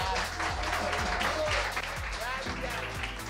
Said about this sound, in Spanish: un aplauso muy grande también, por favor, a Koldo Miranda